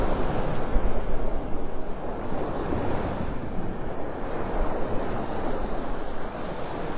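Wind buffets the microphone on a Gulf Coast beach at Delnor-Wiggins in North Naples, Florida, as ocean waves wash in a continuous, close roar with no talking.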